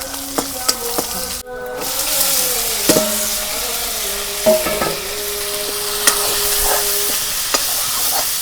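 Chickpeas and boiled potatoes for ghugni stirred in a sizzling pan in a village kitchen, a continuous frying hiss with occasional scraping and clinking knocks of the spoon.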